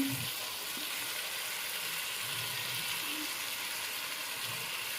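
Mutton for Hyderabadi dum biryani fries in a pan with steady, even sizzling that carries on throughout, close and moderately loud, with a faint low rumble beneath and no voices.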